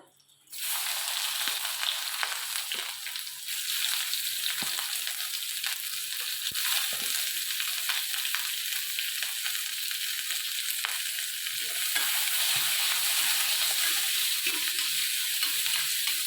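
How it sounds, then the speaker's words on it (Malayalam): Onions dropped into hot oil in a pan burst into a sudden loud sizzle that continues steadily, with occasional soft stirring scrapes, close and without voices. "ഞാൻ ലേശം എണ്ണ ഒഴിച്ചു ഇനി നമുക്ക് ഉള്ളിയും ആദ്യം ഇട്ടിട്ട് വഴറ്റാം"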